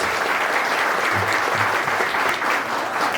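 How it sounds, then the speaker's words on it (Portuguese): Steady, dense applause from an audience welcoming parish members at a monthly pastoral meeting, loud and continuous throughout, with a faint voice or low tones briefly showing beneath the clapping. "Vamos acolhê-los com um grande salve de palmas."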